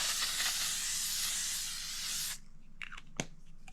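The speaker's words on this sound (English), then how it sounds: "I'm going to use some setting spray." A continuous hissing spray of makeup setting spray lasts a couple of seconds close by, then stops, followed by a few faint clicks and rustles.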